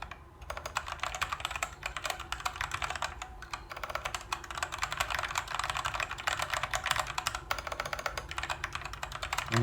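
Rapid, steady typing on a computer keyboard, loud and close, the dense clatter of keys continuing without pause for the whole stretch with no voices.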